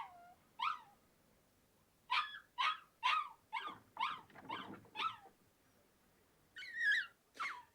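A young wolf cub howls for its mother in thin, wavering cries, a string of short yelps and whines with brief gaps, fairly faint against a quiet background.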